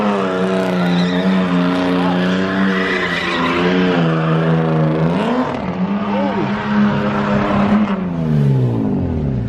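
A BMW E36 with a welded differential is driven hard, the engine revving high and stuttering against the rev limiter while the tires squeal and skid, loud and close with a voice briefly over it.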